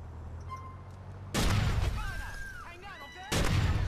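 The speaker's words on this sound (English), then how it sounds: "now there's shots being fired" Gunfire in GTA IV with the LCPDFR police mod, two loud bursts of booming shots with a siren-like wail sweeping between them, and a voice speaking beneath the game audio.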